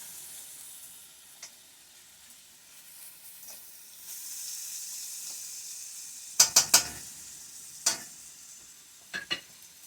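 Food being stirred in a pan as it cooks, with a steady background sizzle and a cluster of sharp scraping clicks of the utensil against the pan toward the end, close and fairly quiet.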